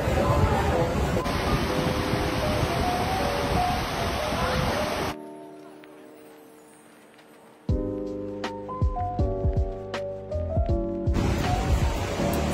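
Sea waves at a beach on Boracay, a steady broad wash of surf that drops away for a few seconds midway, with brief tonal interruptions before the surf returns.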